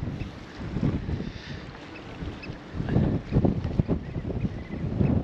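Boat motors rumble on open water on the Norfolk Broads with wind buffeting the microphone, the engine noise swelling louder toward the end as vessels pass close by.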